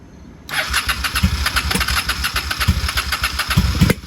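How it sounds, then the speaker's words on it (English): A 1995 Honda Shadow VLX 600 (VT600CD) motorcycle engine catches after a short silence and runs roughly and loudly up close, with several sharp pops scattered through the running. "Backfire."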